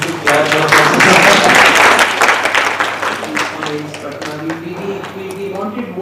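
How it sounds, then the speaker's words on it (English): Attendees at a pediatric cardiovascular medical meeting break into hearty applause for a radiologist. The clapping is strongest early on and tapers as a voice talks over it and continues afterward. "I think we should clap"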